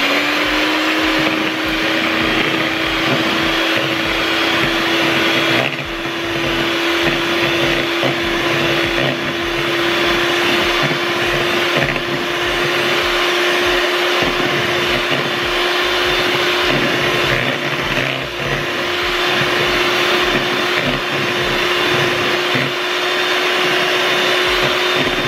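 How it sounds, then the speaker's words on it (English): A hand stand mixer beats cake batter for a dog's birthday cake, giving a loud, steady electric motor whine that runs unbroken throughout with no talk. "so now we have to beat it with a hand stand mixer"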